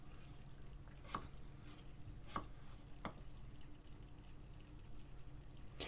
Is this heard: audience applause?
no